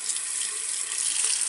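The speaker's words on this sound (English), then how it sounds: "Turn on the water." Water pours steadily from a sink faucet for hand washing, a constant bright hiss and splash at close range with no voices.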